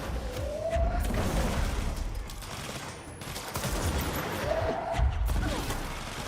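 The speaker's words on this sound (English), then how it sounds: "Somebody's shooting something." Video game gunfire, repeated shots and bursts in a busy, noisy firefight that continues steadily throughout at moderate distance, with no clear talk over it.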